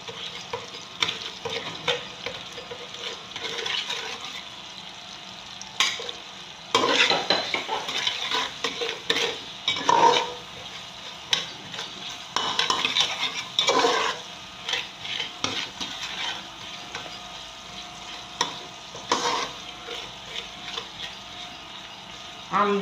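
Onions and seasoning cubes being stirred in a hot pot for Nigerian jollof rice, a steady sizzle under repeated scraping of a spoon against the metal, close and fairly loud throughout.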